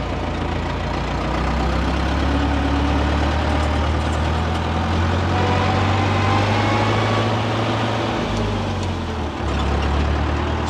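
An aging farm tractor's engine idles steadily and loudly nearby, a continuous low rumble with a faint shift in tone near the end and no voices over it.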